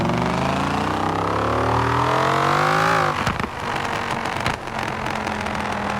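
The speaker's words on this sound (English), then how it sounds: "I kinda like the sound of this car, but it's a little bit too brutal for a new Viper like this" A Dodge Viper engine in Forza Horizon 4 revs hard, its harmonic whine climbing steadily for three seconds before cutting off abruptly, followed by rougher, choppier engine noise with sharp bursts, loud and close with no talking.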